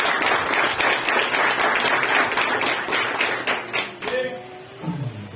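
A church congregation applauds to welcome the pastor, loud close clapping with audible individual hand claps that continues for several seconds, then thins out as a voice and a sustained tone come in at the end.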